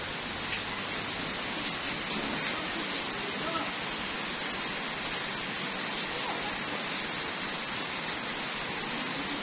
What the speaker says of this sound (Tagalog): So ulan na siya.